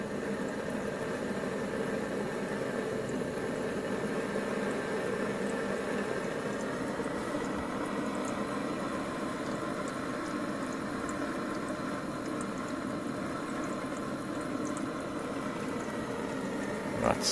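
A propane-heated Stirling engine runs steadily, giving a continuous, even mechanical hum and whir with a faint watery, boiling-like rumble underneath, holding a constant level with no talking.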